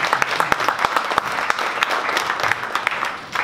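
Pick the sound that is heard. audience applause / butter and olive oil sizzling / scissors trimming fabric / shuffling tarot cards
audience applause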